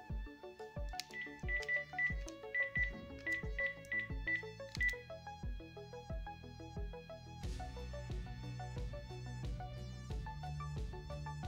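Incoming-call ringtone on a Samsung Galaxy S7 Edge fitted with an LED View Cover: a bright, melodic electronic tune of repeating tonal notes that plays loudly and steadily without any talk, growing fuller and denser partway through.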